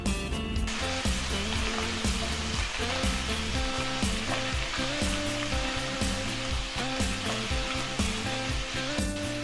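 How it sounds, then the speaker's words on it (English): Diced onion sizzling steadily in a hot pan, with the frying loud and close and a rhythmic scraping of stirring running throughout. "Diced onion, cook for 5 minutes."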